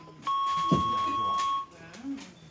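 A single steady electronic voicemail beep on a phone call, sounding after the switched-off announcement routes the call to voicemail, lasts about a second and a half before dropping to faint background murmur.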